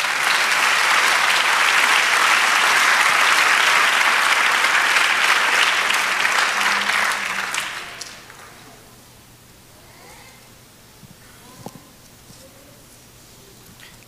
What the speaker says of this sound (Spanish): Den otro aplauso al Señor.